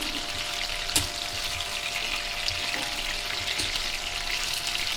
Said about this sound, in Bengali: আমি এক সাইডে মাছ ভাজাও বসিয়ে দিয়েছিলাম